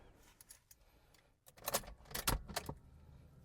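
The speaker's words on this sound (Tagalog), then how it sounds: "Saksak natin yung susi." Car keys jangle and scrape as a key is pushed into the ignition of a car with a faulty automatic lock, quiet metallic clinks at first, then a louder burst of rattling bursts close by.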